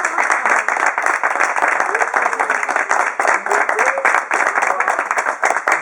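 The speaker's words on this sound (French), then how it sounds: "je vous demande de les applaudir" An audience claps for Jean-Pierre and Sylvie at an end-of-stay gathering. The applause is loud and continuous, with voices and brief vocal sounds mixed in underneath.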